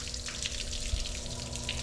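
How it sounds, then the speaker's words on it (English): Cooling water streams from a Nitro 640 LX bass boat's outboard motor, a steady close splash and patter running throughout over the low hum of the engine. "Water's flowing real good, which cools the motor."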